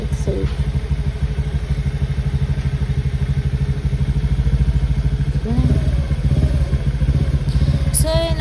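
A motorcycle engine idles while warming up, a close, steady rhythmic thumping that roughens slightly toward the end, while a voice speaks briefly over it.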